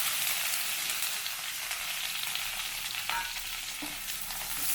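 Mustard seeds, curry leaves and two green chillies frying in hot oil make a steady, fairly quiet sizzle with a few faint pops and a light spoon touch, no one speaking.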